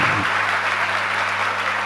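Steady, loud audience applause at a Hindi religious discourse, dense continuous clapping throughout with a low hum beneath.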